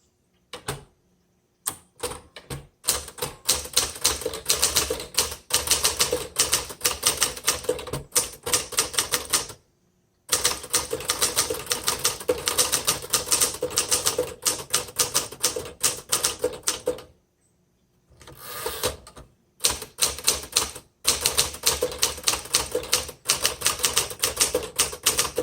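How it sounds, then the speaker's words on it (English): A 1959 Remington Quiet Riter manual typewriter is typed on at a steady pace, giving dense runs of crisp keystrokes. Brief pauses break the runs, and a couple of longer silences mark carriage returns. "This is an excellent typing machine."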